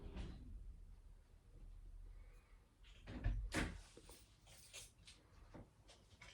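A wooden door opens and bumps shut as a husband comes in, a muffled thud and rattle midway over quiet room noise, followed by a few lighter knocks.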